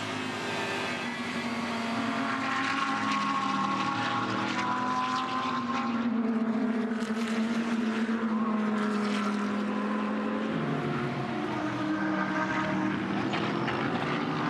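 GT race cars, a Lamborghini among them, race at Sydney Motorsport Park, a steady loud engine roar rising and falling as cars pass, with a pitch drop near the end as one goes by.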